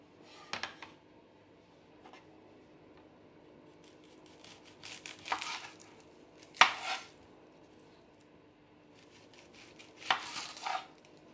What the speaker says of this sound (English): pro tip for cutting onions: wear contacts